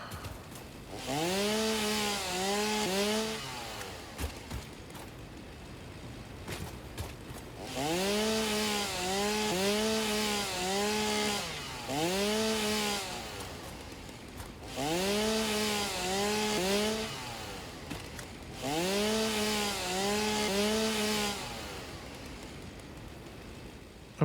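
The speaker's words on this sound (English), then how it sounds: "We need a chainsaw." A chainsaw in the video game Satisfactory cuts through wood in four repeated bursts, each a loud, buzzing whine with rising and falling pitch sweeps, separated by short quieter pauses.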